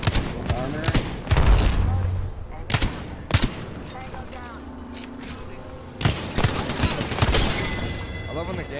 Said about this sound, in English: I love when the game flashbangs you